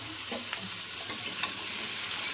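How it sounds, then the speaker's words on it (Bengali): Ginger and green chillies crackle in hot tempering oil for a potato, pumpkin and long-bean curry, a steady quiet sizzle broken by a few faint stirring clicks, with no voices. "তরকারিটার মধ্যে একটু আদা আর কাঁচা লঙ্কা ফোড়নে দিলে বেশ খেতে ভালো লাগে।"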